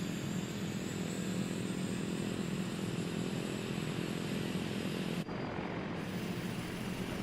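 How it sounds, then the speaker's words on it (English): A turbine engine on a Beechcraft Duke aircraft spools up and runs as a steady, loud whine and roar, with a brief dip in the middle before it continues. "That sounds like an engine start"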